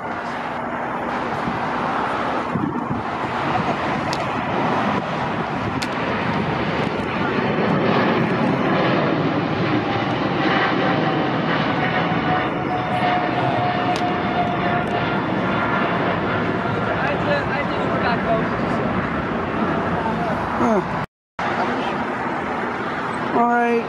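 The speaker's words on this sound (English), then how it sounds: "Now rolling for Tokyo Narita, Singapore SQ11 Heavy." Singapore Airlines flight SQ11, a heavy jet bound for Tokyo Narita, rolls for takeoff from LAX, its loud sustained engine roar steady throughout, heard from a hillside with faint road traffic underneath and a momentary dropout near the end.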